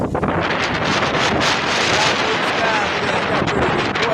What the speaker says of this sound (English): That wind's chilly, though.